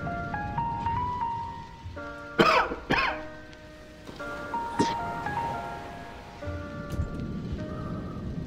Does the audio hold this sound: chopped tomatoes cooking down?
no